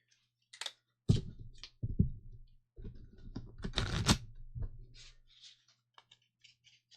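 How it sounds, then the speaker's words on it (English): A deck of game cards is shuffled by hand in several bursts of riffling and tapping, close and moderately loud, with no one speaking. "we shuffle it up."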